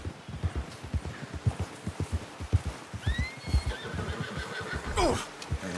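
In the video game Red Dead Redemption 2, a horse whinnies loudly near the end while steady hoof clip-clops beat beneath, with rustling and a brief whistle-like call in the middle.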